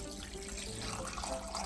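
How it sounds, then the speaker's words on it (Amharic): Water runs from a tap into a pot in a steady, faint stream, continuous and close with no voices. "ከዛ ውሃ ሞላዋለሁ።"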